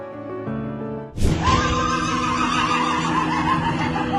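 A horse whinnies loudly and close, a long shrill neigh breaking in after a second of low background noise and carrying on to the end.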